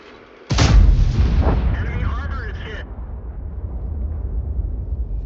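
A loud tank cannon shot booms from a tank video game, with a sharp onset and a long rumbling decay, while a voice talks over it.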